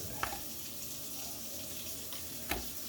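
A kitchen tap runs steadily to wet a sushi knife, a constant hiss of water with two small clicks or splashes standing out.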